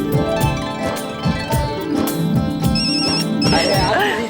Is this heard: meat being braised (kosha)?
no